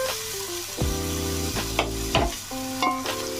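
Onions fry with ginger garlic paste in a pan, with a soft steady sizzle and a few scraping stirs, while tonal musical notes play over it.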